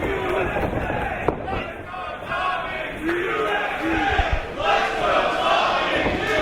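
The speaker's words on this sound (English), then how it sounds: "Listen to this crowd. Evenly split here." A wrestling crowd at an EVOLVE event chants in a big arena, the noise split into rival rhythmic call-and-response shouts that rise and fall continuously, with occasional thuds from the ring beneath.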